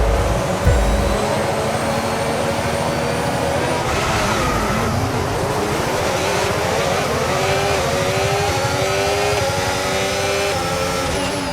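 Formula 1 cars in the F1 25 video game surge off the start of a sprint race at Texas, layered high engine whines rising and shifting in pitch as several cars accelerate together, loud and continuous with a brief thump near the start.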